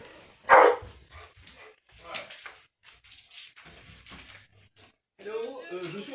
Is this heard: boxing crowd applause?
no